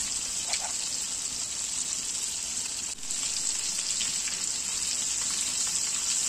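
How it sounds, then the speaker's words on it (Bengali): Pieces of fish shallow-frying in hot oil in a frying pan give a steady, dense sizzle that runs unbroken throughout, with a brief dip near the middle and no talk. "মাছের সবগুলো পিসকে এভাবে আমি পর্যায়ক্রমে ভেজে নিব"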